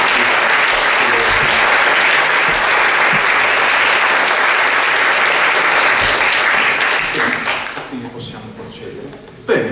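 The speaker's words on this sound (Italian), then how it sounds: "volevo chiedere da parte vostra anche un applauso ai nostri giurati" Sustained, dense applause from an audience at an Italian award ceremony, loud and steady for several seconds before fading out as a voice begins to speak near the end.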